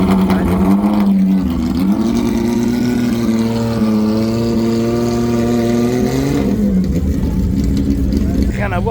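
A BMW M1 drives fast on a country road, its engine note rising and holding in a loud sustained drone with shifting pitch, while people talk over it inside.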